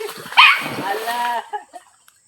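A dog yips and whimpers excitedly up close in the jungle, with a person talking over it, then it trails off into quiet.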